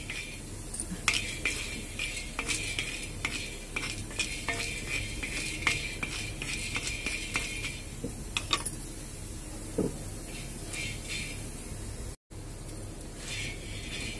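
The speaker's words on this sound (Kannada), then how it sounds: "ಈಗ ನೋಡಿ ಇದನ್ನು ಹುರಿತಾ ಇದ್ದೀನಿ. ಇದನ್ನು ಕೂಡ ಹದವಾಗಿ ಹುರ್ಕೋಬೇಕು." An ingredient dry roasting in a hot pan for horse gram rasam, with a soft crackle and frequent sharp scrapes and clinks of a spoon against the pan, no talking.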